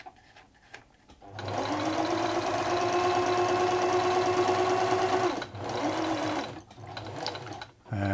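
A 1970s Singer Futura 1000 sewing machine runs steadily for about four seconds on a narrow zigzag stitch, with a fast, even mechanical hum, then stops, starts again briefly and stops once more.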